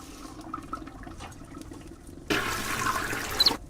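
A toilet flush in the Deponia video game, a sudden loud rush of water that starts partway through and runs for over a second after quieter background sound.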